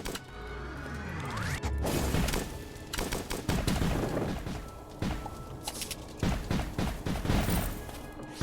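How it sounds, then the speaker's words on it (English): Grenade launcher firing in the video game Starbound, rapid repeated bursts and explosive thuds amid other combat effects, loud and dense with a few short gaps, no voices. "another one-handed grenade launcher"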